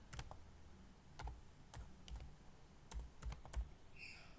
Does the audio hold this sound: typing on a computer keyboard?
yes